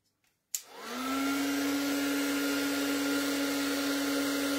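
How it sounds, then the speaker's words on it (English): A heat tool drying a craft project switches on and runs as a steady, loud whirring blow with a constant hum, continuing alone without pause after a brief click at the start. "I'm going to make noise because I'm going to dry this with my heat tool."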